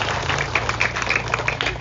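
An audience of women claps at a Balinese bondres comedy performance, a brief patter of scattered claps over a steady low hum.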